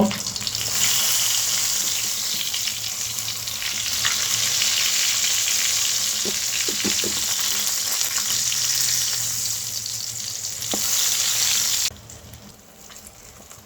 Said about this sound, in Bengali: এপিট উপিট করে সুন্দরভাবে ভেজে নেব